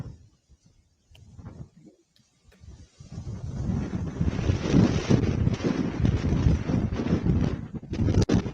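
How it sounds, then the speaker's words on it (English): Strong gusts of wind, reported near 50 miles an hour, buffet the microphone outdoors, starting softly with brief low thumps before building into a loud, sustained roaring rumble. "It's kind of windy, I would say. They're getting gusts 50 miles an hour."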